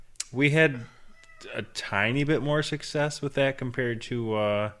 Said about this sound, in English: Sorry if you can hear meowing in the background.